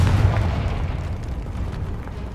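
A Confringo fire spell explodes in Hogwarts Legacy, giving a deep, muffled boom that rolls on as a low rumble for a couple of seconds.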